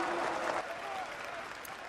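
A huge crowd roars and cheers in WWII-era Germany, a dense, sustained wall of many voices that stays loud and steady throughout.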